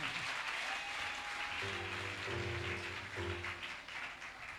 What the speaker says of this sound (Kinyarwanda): Nitwokomera amashyi umwami w'abami.